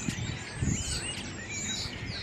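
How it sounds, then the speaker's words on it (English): Busy birdsong near Crosby Beach with many overlapping chirps and tweets, moderately close, continuing steadily with no voices. "Oh, listen to all those birds."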